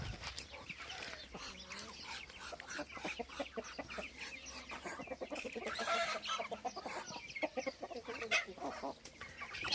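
Chickens and other farm fowl cluck and squabble over feed in a village farmyard, a dense, continuous chorus of overlapping clucks and squawks close by, with no talking.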